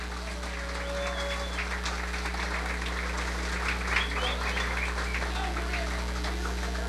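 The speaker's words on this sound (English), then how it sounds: "Another round of applause for all 10 of our contestants." An audience at the 1991 Mr Chicago Leather contest gives a sustained round of applause for all ten contestants, steady clapping filling the room for the whole stretch with a low hum beneath and crowd voices mixed in.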